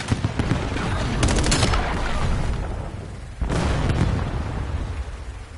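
Loud Semtex grenade blasts in a first-person shooter video game, heavy booming bursts over a rumble of gunfire, with a fresh sharp blast partway through followed by a decaying roar.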